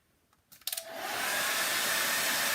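Hair dryer or heat tool drying a mixed-media craft tag made with collage paper and a mould, starting after a few light clicks and then blowing as a steady, loud, close whoosh for the rest of the clip, with no talking.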